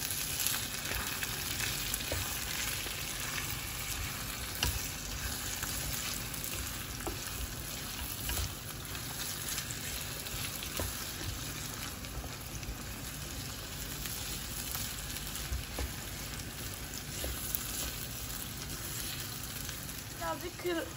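Stuffed pepper filling sizzles and fries steadily in a pan as it is stirred, a dense continuous crackle with occasional scraping, no voices.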